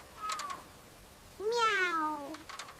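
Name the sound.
kitten meowing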